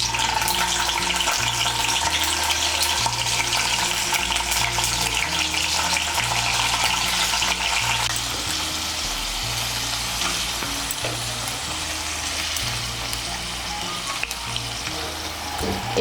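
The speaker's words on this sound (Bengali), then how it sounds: "তেলটা গরম হয়ে গিয়েছে, এর মধ্যে পনিরগুলো ভেজে নেব।" Paneer pieces frying in hot white oil in a wok give a steady, loud, continuous sizzle with crackling spatter, close up and unbroken for the whole span, with faint clinks underneath.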